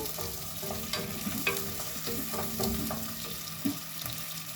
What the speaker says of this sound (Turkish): Soğanla kavuracağım gene